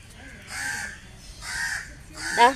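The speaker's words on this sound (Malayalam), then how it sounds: "കണ്ട കാക്ക അണ്ണാൻ മരം കൊത്തി അങ്ങനെയുള്ള എല്ലാം ഇവിടെ വരുവേ വന്ന് ഭയങ്കര സൗണ്ടാണ്" Three loud, harsh crow caws spaced about a second apart, the last one closest and strongest, over a low background hum.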